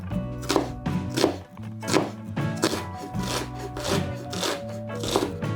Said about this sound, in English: Next, we're gonna cut our onions.